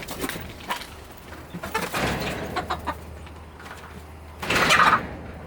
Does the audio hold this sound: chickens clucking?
yes